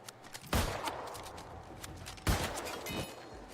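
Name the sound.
gunfire in the video game Dead Island 2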